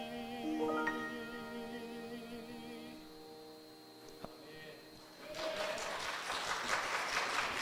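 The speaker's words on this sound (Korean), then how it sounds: "박수로 격려하겠습니다" Congregation applause breaks out during a Sunday church service at the close of a choir hymn, a loud, dense burst of clapping rising in the last seconds after sustained music.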